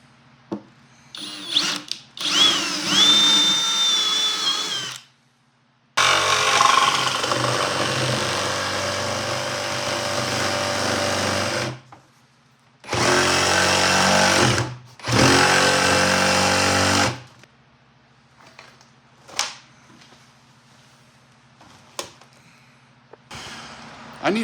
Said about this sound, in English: I might drill some pilot holes with a step drill bit